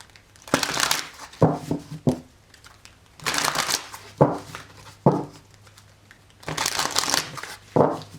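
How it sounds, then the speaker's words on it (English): Tarot cards are shuffled in three long riffling bursts, each a crisp papery rush followed by a few soft taps, close up with quiet pauses between. "Okay, one more shuffle."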